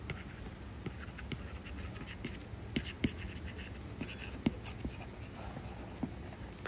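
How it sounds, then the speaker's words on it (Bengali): A pen scratches across paper as a question is written out by hand in a diode circuit class, with soft intermittent strokes and taps, quiet and close, and no talking. "এখানে আমি কোশ্চেনটা লিখে দিচ্ছি"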